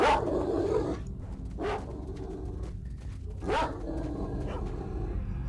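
Hostile dogs in the video game Stalker: Shadow of Chernobyl bark in three short bursts over a steady low game ambience.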